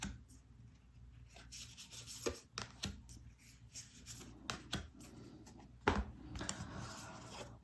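Tarot cards shuffled and drawn from a deck: soft rubbing, riffling card noise with several sharper slaps and flicks spread unevenly, close and fairly quiet, with no talking.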